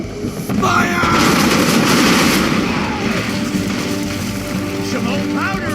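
Naval cannons fire from a sailing ship during a sea battle in Assassin's Creed III, loud overlapping booms and crackling blasts rolling together under shouted voices.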